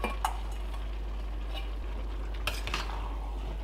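Chilli with celery and green peppers stirred in a pan: a spoon taps and scrapes against the metal in scattered clinks over a low sizzle, close and fairly quiet.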